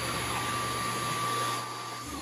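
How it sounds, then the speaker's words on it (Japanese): A household vacuum cleaner runs steadily and loud while a child pushes it around cleaning, a continuous motor whine with a sustained tone and no talking. "掃除機に引っ張られながらもしっかりお掃除を進めていく"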